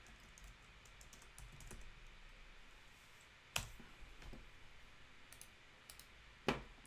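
Typing on a computer keyboard, quiet close key clicks in an uneven run with two sharper, louder key strikes standing out, no talk.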